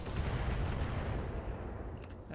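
Weapon fire in the Battletech video game, mech combat with heavy guns, comes as a dense, continuous barrage of booming shots under a rumbling bed, with a couple of brief higher clanks near the end.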